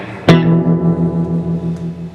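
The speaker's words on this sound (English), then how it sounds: "the echo knob will affect how long the reverb rings out" A VFE Yodeler pedal with its echo knob turned down lets a single struck guitar note ring out in reverb, starting sharply and then sustaining and slowly fading over about two seconds.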